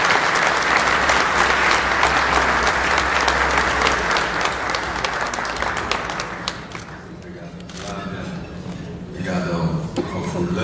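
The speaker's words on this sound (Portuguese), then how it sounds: "peço uma salva de palmas ao senador Álvaro Dias" A business leaders' audience breaks into sustained, loud applause for a senator at a lecture event. The clapping is dense and continuous, then thins toward the end.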